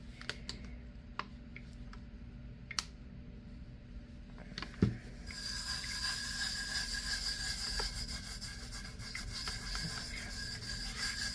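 Glitter-coated tumbler surface being rubbed flat by hand, producing a steady close scratchy friction that starts after a few light taps and continues without pause.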